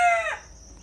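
A single short cluck from an Ameraucana pullet being handled, close and fairly loud, fading quickly into quiet.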